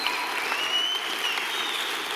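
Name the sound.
congregation applauding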